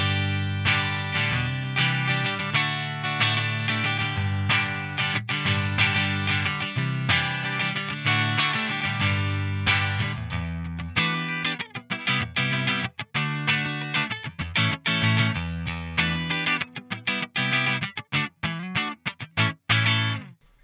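A distorted electric guitar, a Yngwie Malmsteen Stratocaster through a Carvin Quad-X tube preamp, plays sustained chords, then shifts into fast choppy riffing with abrupt stops, thick and saturated, with no voices.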